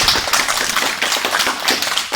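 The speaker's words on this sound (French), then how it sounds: "On applaudit Isaac." Close, brisk clapping from a small group at a judo club Kagami Biraki ceremony, a dense patter of hand claps without talk.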